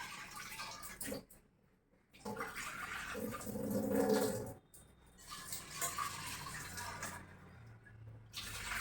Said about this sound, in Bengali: ধুয়ে নিচ্ছি।